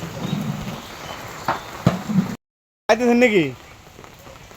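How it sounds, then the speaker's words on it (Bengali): Rain falls at an iftar gathering on the final fast of Ramadan, a steady close hiss that cuts off briefly before a voice speaks over it. "বৃষ্টি"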